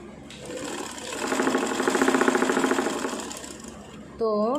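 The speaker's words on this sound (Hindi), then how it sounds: "तो हमने इस तरह से इसकी सिलाई कर ली है।" A sewing machine stitches a bra, its rapid rhythmic whirring rising and holding steady for a few seconds before stopping, followed by a brief burst of speech.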